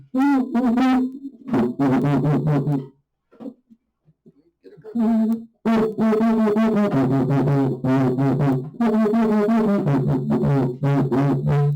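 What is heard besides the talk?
cuica friction drum being played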